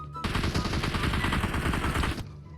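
Rapid automatic gunfire from PUBG Mobile rattles loudly in one sustained burst of about two seconds, dense and continuous, then cuts off abruptly into near quiet.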